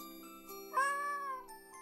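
A cat in the RPG horror game Misao (2024 HD remaster) gives a single drawn-out meow, clear and close, over soft sustained background music.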